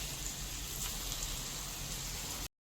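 Spicy street-style potatoes frying in white oil on a tawa, a loud, even, rain-like sizzle filling the clip before cutting off abruptly near the end.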